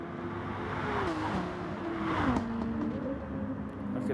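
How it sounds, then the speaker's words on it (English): A Nissan Skyline race car in a racing video game on a Sardegna road track, its engine note climbing and dropping through gear changes at moderate volume amid other cars' engine noise. "That Skyline, listen to that thing, man."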